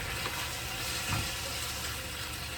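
Seasoning such as Montreal seasoning is stirred through a sizzling single pot of surf and turf pasta: a continuous loud frying hiss with a brief scraping stir near the middle, and nobody speaking.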